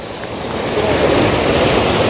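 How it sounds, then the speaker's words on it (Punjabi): A steady, loud rush of fast-flowing canal water fills the clip as a continuous broadband roar, with no voices. "ਪਾਣੀ ਦਾ ਹਲੇ ਵੀ ਤੇਜ਼ ਬਹੁਤ ਜ਼ਿਆਦਾ ਵਹਾ ਬਹੁਤ ਤੇਜ਼ ਆ"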